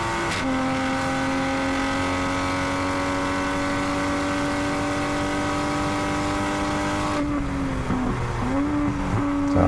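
Toyota Supra race car on a full lap at Ridge Motorsports Park, its engine droning loud and steady close up, pitch holding through a long pull before dipping and climbing again near the end as it lifts and reaccelerates.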